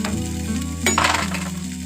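Leftover chapati crisps in ghee in a pan with a steady, loud close sizzle; a brief stirring scrape and clatter breaks in midway.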